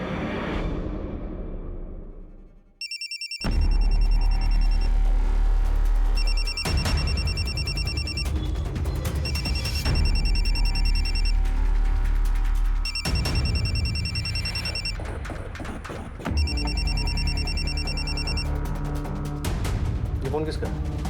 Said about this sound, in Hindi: ये फोन किसका है?